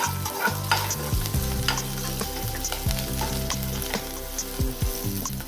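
A tempering of curry leaves, green chillies and garlic crackles and sizzles hard in a pan, with dense popping bursts that continue without a break. Steady background music plays underneath.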